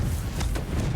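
A Confringo fire spell detonating in Hogwarts Legacy, a loud low rumbling blast that fills the whole second with dense, booming roar.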